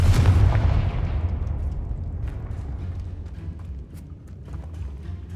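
Confringo fire spell explosion in the video game Hogwarts Legacy: a single heavy, close boom at the start that trails off over several seconds into a fading low rumble.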